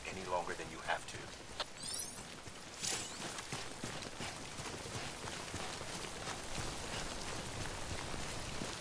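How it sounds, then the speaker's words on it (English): Steady rain of timefall in Death Stranding, a continuous hiss of drops pattering on surfaces, with a few louder knocks early on and a voice speaking over it. "don't stay out in the rain any longer than you have to"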